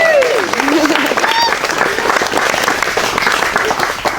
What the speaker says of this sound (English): Round of applause for Daniel, ladies and gentlemen.